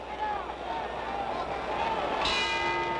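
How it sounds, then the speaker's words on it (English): Ring bell at Madison Square Garden ending round 7 of the Floyd Patterson vs George Chuvalo heavyweight boxing match, a bright metallic clang struck near the end over steady arena crowd murmur. "There's the bell ending round 7 here at Madison Square Garden"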